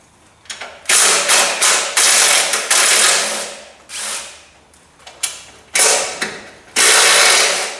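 Mechanical work under a tank's transmission, unbolting the carrier: a series of loud, close ratcheting and rattling bursts, each lasting under a second to a second, separated by short pauses.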